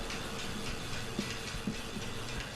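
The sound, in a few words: truck train driving in Astroneer video game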